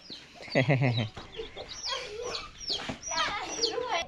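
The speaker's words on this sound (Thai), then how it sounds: "เล่นจับไก่ก่อน" Chickens clucking and squawking as they are chased around a village yard, excited fowl calls in bursts near and loud, with a person's voice talking among them.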